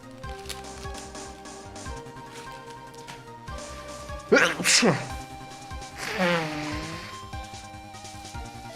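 A single sharp sneeze from a person with pollen allergies bursts out over a steady background with music-like tones, followed a moment later by a drawn-out breathy exhale.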